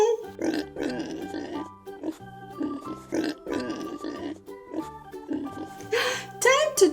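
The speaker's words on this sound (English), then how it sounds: "It's a pig." A farm pig grunts and oinks in repeated short bursts, with a child-directed voice talking over and between the calls.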